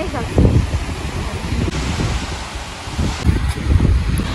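Strong wind gusting at the seaside in Liepāja beside a lifeguard hut, a steady roaring rush with buffeting bursts across the microphone, loud and close throughout.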